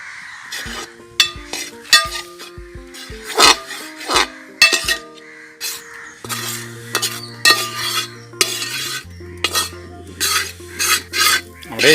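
Avalose podi, rice flour and coconut, stirred continuously in a metal pan over a wood-fired stove, with a spatula scraping and clinking against the pan in an irregular rhythm. The scrapes are close and distinct, with no voice heard.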